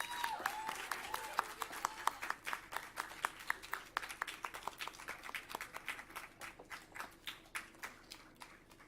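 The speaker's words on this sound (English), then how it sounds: "Please have a huge round of applause" A school Constitution Day celebration audience applauds quiz winners, with many hands clapping in a steady rhythm at moderate distance that gradually thins toward the end.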